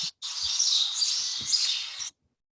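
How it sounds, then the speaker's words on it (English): Birds chirp and tweet outdoors in California, a steady, bright stream of calls lasting about two seconds before falling silent. "More birds."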